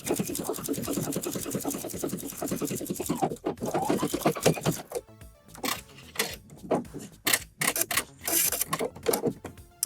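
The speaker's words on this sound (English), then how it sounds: "So I'm sewing this seam down," A sewing machine stitches down a quarter-inch lining seam, a fast rhythmic mechanical chatter that runs steadily at first, then breaks into shorter bursts with pauses and handling rustles.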